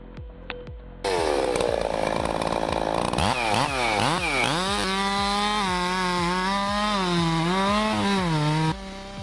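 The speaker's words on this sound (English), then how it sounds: "We're looking at a properly ported Husqvarna 385 today. Incredible speed and power for a work saw." A ported Husqvarna 385 chainsaw cutting a tree starts with a few pull clicks, then roars to full throttle and revs in rising and falling surges before running steadily through the cut, loud and close, with no talking.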